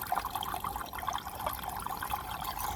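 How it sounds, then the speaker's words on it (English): Water gurgling and trickling through a gravel biological filter in a green pond, a soft, continuous bubbling splash heard steadily at low volume with no voices. "gurgles away down there."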